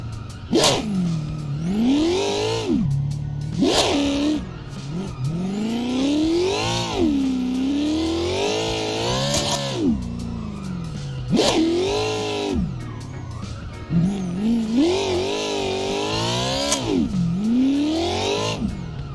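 A car revs hard while drifting in the Assetto Corsa racing game, its engine pitch sweeping up and down in repeated surges and dips with brief lifts off the throttle. Possible tire squeal mixes in. No voices.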